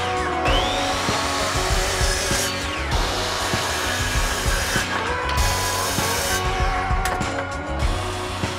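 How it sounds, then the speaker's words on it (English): A miter saw cuts wooden strips to length in a woodworking shop, loud close motor whine with repeated blade bursts as it spins up and slices through wood, several cuts in sequence. "The stripes were too long for the miter gauge, so I used my miter saw."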